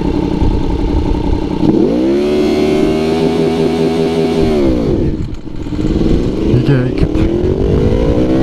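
A Yamaha YZF-R1M sport bike's engine held at a high, steady rev with launch control engaged, loud and close, dropping off, then climbing again as it pulls away, while someone talks over it.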